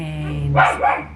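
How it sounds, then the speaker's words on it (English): A dog barks indoors, two sharp close barks after a brief spoken word, loud against a quiet room hum. "sorry, that's my dog."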